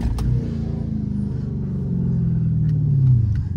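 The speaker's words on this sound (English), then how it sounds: "Oh my god, downshifts are crazy." A Dodge Charger SRT 392 fitted with a wicker bill downshifts with a deep, loud, close exhaust rumble, the engine note dropping then swelling again toward the end.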